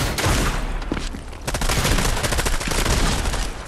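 Turret gunfire in the Fortnite video game, a dense sustained burst of rapid shots filling the whole stretch at close, loud level with no talk.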